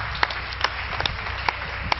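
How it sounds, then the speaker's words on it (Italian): An audience at a theatre and comedy festival evening in Luino applauds in a short, steady burst of clapping, with individual claps standing out. "fatelo un applauso, un luinese"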